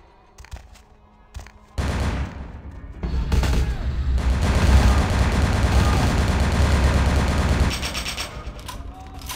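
Sustained, loud gunfire in the video game Vampire The Masquerade Bloodlines, a dense fusillade of rapid shots and booms lasting several seconds after a few scattered opening shots.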